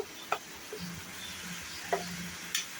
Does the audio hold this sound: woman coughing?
no